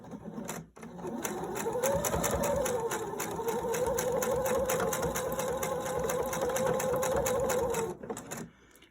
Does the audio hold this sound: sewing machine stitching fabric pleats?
yes